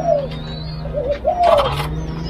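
Vietnamese spotted dove, a captive-bred bird over five years old kept in an aviary, gives a few soft, low cooing calls close by. A faint higher chirp sits over steady low background hum.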